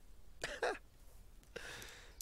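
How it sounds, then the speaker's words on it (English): A person coughs close by in two short, rough bursts separated by a brief pause, with no talking. "Oh, I'm gonna cough again"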